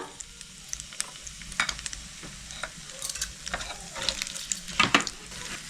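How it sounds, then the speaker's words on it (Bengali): Bay leaves and whole garam masala fry in oil left over from frying fish, a steady close sizzle broken by scattered crackles and the scrape of stirring, with no voices. "শঙ্কর মাছ ভাজা তেলেই আমি ফোড়ন দিয়ে দিচ্ছি, দুটো তেজপাতা আর গোটা গরম মশলা"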